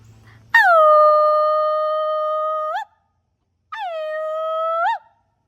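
Two long sustained howls, the first about two seconds and the second shorter, made by a human voice imitating a wolf, rising and holding steady with a tonal rise at each end, loud and close, with a pause between them.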